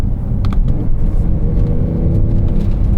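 A 2024 Porsche 911 Carrera T (992.1) flat-six rumbles steadily close up, with quick throttle blips and revs layered over a continuous low drone and road noise, no voices.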